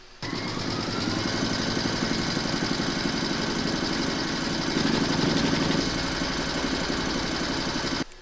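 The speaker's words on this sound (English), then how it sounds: "load your thread colour for the quilting into your machine and then stitch round number 4" An embroidery machine stitches the quilting round of a large appliqué letter in a hoop, a steady rapid mechanical chatter running loud and continuous for about eight seconds with no voices.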